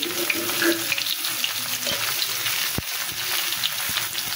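Raw banana and puti fish frying with turmeric and salt in a pan, a steady close sizzle with scraping stirs and a couple of sharp knocks, no talking.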